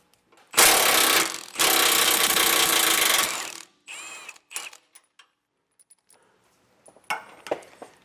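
Front bracket bolt on a 2020 Thor Four Winds being loosened with an 18 mm socket, heard as two loud sustained bursts of power-tool rattling followed by scattered lighter clicks and ratcheting taps.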